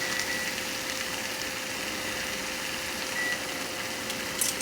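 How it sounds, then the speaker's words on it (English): Microwave oven running while warming tortillas, a steady low hum with a constant tonal whine, continuous and unbroken, no talking. "I'm going to take the tortillas and put them in the microwave for 20 to 30 seconds to soften up."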